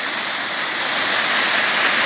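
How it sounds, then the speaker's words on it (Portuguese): Small waterfall inside a forest, a loud, steady broadband rush of falling water filling the whole clip, close and unbroken, with no talk. "estou mostrando uma cachoeira dentro da mata, que tem por dentro da mata"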